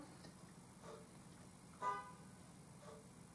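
A car horn gives a brief, faint toot from a distance outside, with one or two softer honk-like blips around it over a low background hum.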